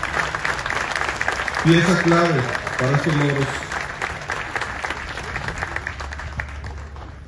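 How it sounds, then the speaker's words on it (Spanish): Applause for coaches at a state sports award ceremony honouring Parapan athletes, a steady crowd clapping throughout while someone speaks over it partway. "un aplauso a los entrenadores"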